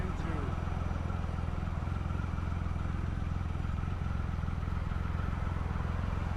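Motorcycle riding on the 110 freeway toward downtown in heavy traffic, a steady low engine drone and road rumble close by, with a voice talking over it.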